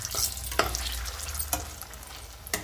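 Sun-dried chillies frying in hot oil give a close, steady sizzle, punctuated by a few sharp clicks of stirring.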